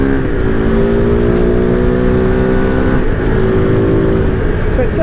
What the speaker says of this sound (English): Really nice engine. It's starting to rev a lot more freely now.